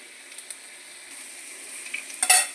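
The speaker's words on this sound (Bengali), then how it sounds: "মশলাটা একটু ভালো করে আলুর সঙ্গে ভেজে নিচ্ছি" Whole spices such as cardamom, cloves and cinnamon frying with potatoes in a pan, a soft steady sizzle with occasional stirring scrapes and a louder clatter of utensil at the end.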